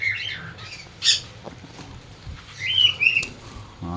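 Lutino pet birds in a breeding cage setup give sharp squawks and brief chirps with quick bursts of wing flapping, scattered irregularly over a quiet background.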